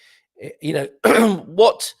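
A few short throat-clearing coughs in quick succession from a nearby person, abrupt and raspy.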